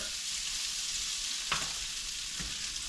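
Shrimp and onions frying in oil in a pan, a steady close hiss of sizzling with a couple of brief stirring scrapes, no voices.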